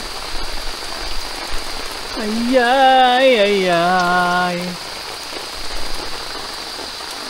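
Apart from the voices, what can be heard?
heavy rain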